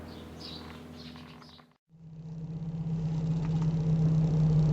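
Birds chirp briefly, then after a short silence a car engine starts up and runs, its steady hum swelling louder as Donald's new car sets off for a drive.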